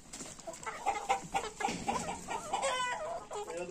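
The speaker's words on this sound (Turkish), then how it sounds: "Bak şurada tavuklar dövüşmeye başladı." Chickens squabble and cluck in a fight, with a rapid run of close, fairly faint squawks and clucks over soft background rustle.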